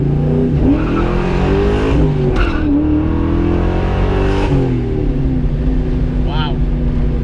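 A cammed 2001 Mustang GT with a 4.6 V8, long tube headers and a catted H-pipe roars loudly and close, its exhaust note rising and falling as the engine revs and the car accelerates on the road.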